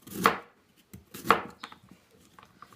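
A knife slices through peeled kohlrabi on a board in two firm, crunchy cuts followed by softer, lighter taps and scrapes, close up and alone.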